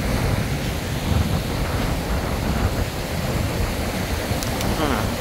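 Ocean surf on a beach gives a loud, continuous broadband roar of breaking waves, heavy with wind buffeting on the microphone and no distinct pauses.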